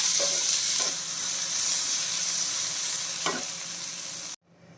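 Tomatoes and onions sautéing in a pan, a continuous close sizzle with a few soft stirring scrapes, no voices, then it cuts off abruptly near the end.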